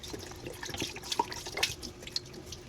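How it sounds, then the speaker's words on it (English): Tap water runs into a container in a kitchen during meal prep, a steady splashing trickle with small bright drips and gurgles, close and fairly quiet. "And fill this with water, shake it around,"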